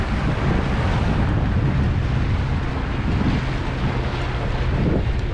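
Strong wind roars steadily, buffeting the microphone with constant low rumbling gusts throughout, with no pauses.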